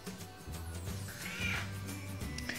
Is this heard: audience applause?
no